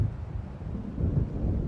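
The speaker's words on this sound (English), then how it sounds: "It seems there's a storm coming." Distant thunder from an approaching storm rolls low and steady beside the sea in the video game Alan Wake, a deep continuous rumble with soft swells and no speech.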